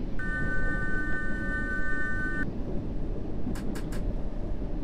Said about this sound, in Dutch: daar komt weer een trein aan